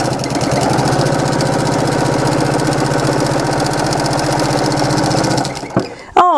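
A sewing machine runs steadily, stitching a rag quilt block with a fast, even mechanical whir for over five seconds before it stops abruptly and a brief rattle follows.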